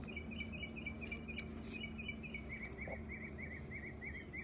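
Small birds chirp repeatedly around a new outdoor bird feeder, a steady train of quick faint tweets over a constant low background hum.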